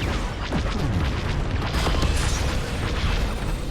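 An ion torpedo and ion missile are fired at shields in a space combat video game, producing a dense wash of booming impacts and whooshing launches that rumble continuously at high volume.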